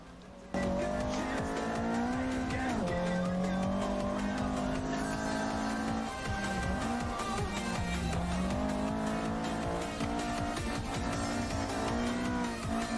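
Video game car engine fitted with an ITB intake, on an AE86 build, droning steadily under load with pitch dips and rises as it shifts and revs, loud and continuous without talk.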